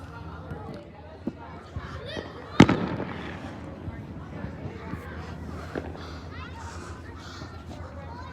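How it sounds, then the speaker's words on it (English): Fireworks burst outdoors, with one sharp loud bang near the middle and fainter pops and crackles around it, under a crowd's chatter and cheering. "Look at those fireworks."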